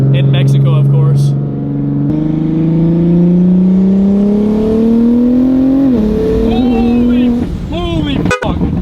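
A tuned MK5 Toyota Supra accelerating onto a highway in Mexico, its engine note climbing loudly through a long pull, then a gear change and more revving, heard from inside with people's voices over it.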